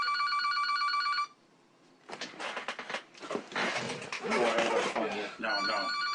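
Telephone ringing: a close, bright electronic trill rings once, stops for a pause, then rings again at the end, while voices talk over the middle.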